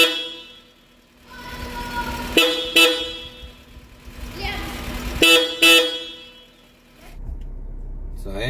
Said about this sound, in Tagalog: testa natin yung busina